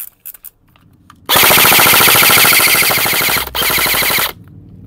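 A Delta airsoft gun fires on full auto, a loud, dense, rapid stream of shots lasting about three seconds with a brief break near the end, set against a quiet room.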